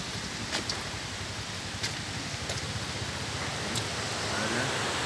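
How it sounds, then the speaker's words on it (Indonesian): Strong spring water rushing after heavy rain, a dense, steady roar of flowing water close by with a few faint knocks, no voices. "Airnya sangat deras sekali."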